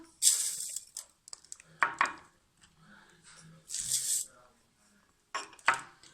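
A granular hiss of two cups of sugar poured in short bursts into a blender, separated by clinks and knocks of kitchenware, with quiet pauses between.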